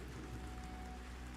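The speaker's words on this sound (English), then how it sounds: "I'm gonna let you guys hear the pitter patter of the rain." Soft, steady rain patters continuously in the video game Pantheon: Rise of the Fallen, an even hiss of drops with no other sounds.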